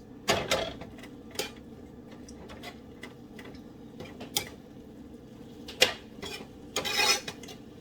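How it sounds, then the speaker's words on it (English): A spoon stirs rice in a non-steel pan, giving scattered soft scrapes and light metallic clinks at irregular intervals against a quiet kitchen background. "So I added the rice to it and I'm just stirring it."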